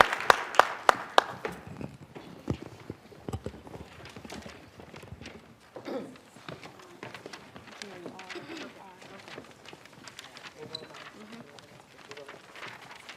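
An audience claps to welcome a choir onto the stage at a church African American History Month event, sharp scattered claps at the start that thin out into murmuring and shuffling in the hall.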